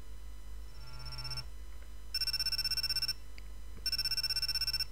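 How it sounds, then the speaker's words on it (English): A cell phone rings in the visual novel game G-senjou no Maou, a bright electronic ringtone in repeating bursts of about a second each, separated by short pauses, over a low steady hum. "First thing the next morning, my cell phone suddenly rang."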